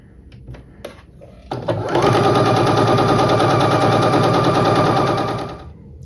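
A sewing machine stitches a quilt block corner, starting after a few clicks and then running in one steady, loud, rapid burst for about four seconds before slowing to a stop.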